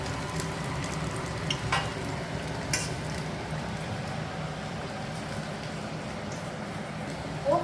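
Kachori frying in a pan of hot oil, giving a steady, close sizzle throughout with a couple of faint clinks over the top.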